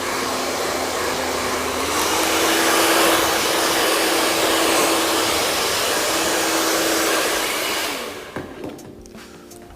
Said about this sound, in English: just give it a quick blast with the hairdryer